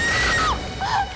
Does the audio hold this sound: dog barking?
no